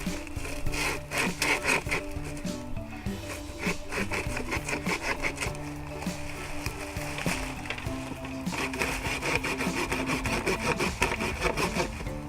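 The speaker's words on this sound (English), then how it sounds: "Let's see how the saw works on this limb." The saw back of a Camillus Carnivore X titanium machete cuts through a wooden limb in a steady, rapid run of close rasping back-and-forth strokes that continues almost without pause, with no talking.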